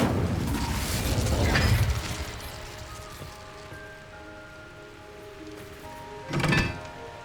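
Incendio fire spell in Hogwarts Legacy, a whooshing burst of flame with a rumbling thud, a quieter crackling tail and tonal shimmer, then a second sharp fiery burst near the end.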